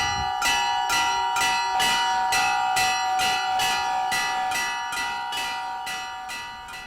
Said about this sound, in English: Its bells were salvaged from discarded ships.